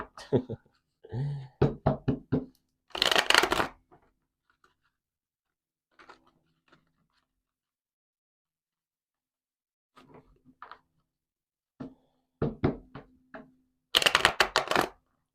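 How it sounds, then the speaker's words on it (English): Several quick bursts of shuffling tarot cards, crisp riffles and flutters nearby, separated by quiet pauses, with a few soft taps and handling noises between. "what's going on with my shuffles right now?"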